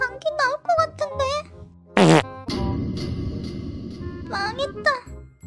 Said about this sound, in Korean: 방귀 나올 것 같은데.